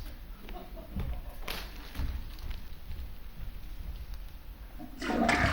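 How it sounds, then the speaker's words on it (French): A toilet flushes in a bathroom, a steady rushing wash of water heard close and fairly loud, with thumps and a swell near the end. "T'as tiré la chasse."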